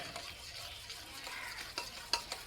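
Ragi kali is stirred in a pot with a ladle, making faint, repeated soft scraping strokes at an irregular rhythm. The quiet background has a few slightly sharper scrapes near the end.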